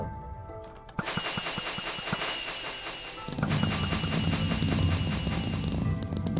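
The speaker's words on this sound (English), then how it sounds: "whenever I press this button, fireworks come out" Fireworks launched by a button press in a Minecraft command-block world, a rapid stream of sharp crackling pops and bursts that starts abruptly and grows denser and louder, with no talking.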